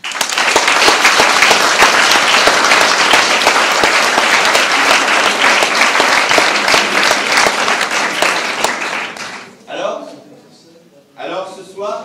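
Loud, sustained audience applause fills a hall at the final of a pleading competition, dense clapping that fades out near the end as a voice begins speaking over the thinning claps.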